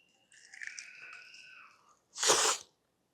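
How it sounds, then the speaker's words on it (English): After a faint rustle and squeak, a sharp, loud crunch bursts out close by as a crispy chicken wing is bitten, a single bite lasting under half a second. "I moved my mic up so you can actually hear the crunch."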